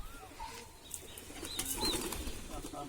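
An Andhra pigeon, its wings clipped, takes off in a short burst of wing flapping, nearby and fairly soft, with faint cooing and other outdoor noise around it.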